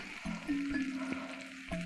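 Masala for Rajasthani gatta rice frying in a pan as yogurt is added, a steady low sizzle with light stirring close by.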